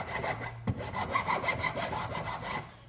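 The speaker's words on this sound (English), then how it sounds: "What you want to do is take the edge off here, and you can do it in a vise with a file" A hand file rasps back and forth along the edge of a scrap wood block clamped in a vise, a rhythmic scraping of about a dozen steady close strokes.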